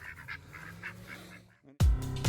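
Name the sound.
ducks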